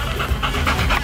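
A dog pants steadily and close by, a quick rhythmic run of breathy huffs with nothing else over it.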